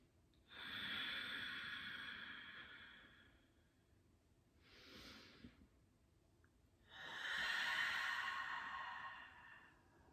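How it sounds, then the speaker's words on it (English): Audible ujjayi yoga breathing with a soft ocean-like hiss: a long constricted inhale, a short breath, then another long airy exhale, close and quiet with no talk. "you hear this sound like the ocean wave"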